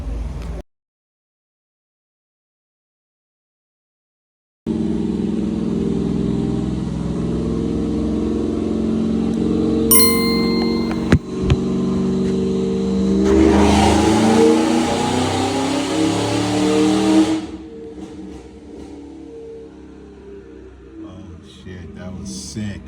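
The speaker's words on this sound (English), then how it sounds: "I think the dyno pull is gonna happen" A 5th-gen Camaro SS with a supercharged LSA V8, flex fuel and ID1050x injectors idles, then revs hard on a dyno, its note climbing loudly through a pull before cutting back after a near silent start.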